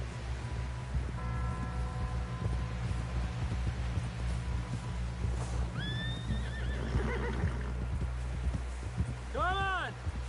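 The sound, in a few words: horse in a video game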